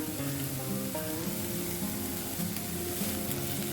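Three tablespoons of grated coconut sautéing with cooked beans in a pan for a Kerala-style vegetarian lunch dish, making a steady, close sizzle over a faint tonal hum, with no speech.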